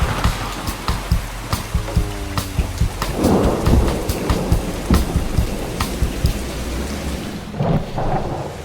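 Steady heavy rain pours onto a surface while deep thunder rumbles and rolls through the middle, from an electric car charging advertisement set in a storm; continuous and loud with no voices.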